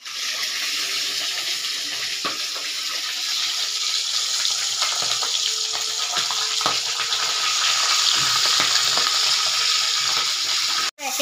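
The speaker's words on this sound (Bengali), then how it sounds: "এক এক করে রুই মাছের মাথাগুলোকে দিচ্ছি। খুব ফাটছে, একটু ঢেকে দিই ঢাকনা দিয়ে।" Rohu fish heads frying in hot oil, a loud continuous hiss with sharp crackles and spatters close by, ending in a quick knock.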